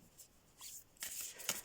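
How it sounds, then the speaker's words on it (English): Oracle cards being shuffled by hand for a reading, a few soft papery riffles and flicks, the last near its end the sharpest, quiet and close with no talking. "Very hard to shuffle, but I will try for you."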